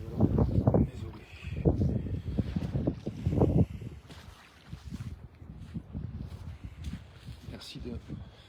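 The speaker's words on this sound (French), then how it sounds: "Le bruit des vagues, c'est sympa, mais ça couvre ta voix." Ocean waves rumble and wash near the microphone with some wind buffeting, swelling loudest early on and settling to a lower roar, while a person talks over them.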